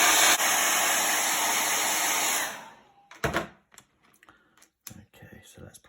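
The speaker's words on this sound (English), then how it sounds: "let's give that the hairdryer treatment" A hairdryer blows loud and steady while drying paint on a kids' painting, then cuts off after about two and a half seconds, leaving faint clicks and small handling noises.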